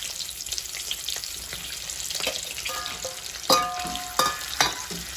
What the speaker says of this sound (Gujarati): થોડા આપણે તળી લઈશું સરસ રીતે।